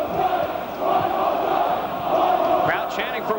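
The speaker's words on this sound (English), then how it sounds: "Crowd chanting for one more time." A wrestling crowd at a Sting versus Jarrett NWA title match chants in unison, a loud sustained roar of many voices with rhythmic swells, filling the arena throughout.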